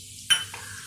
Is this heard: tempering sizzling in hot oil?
yes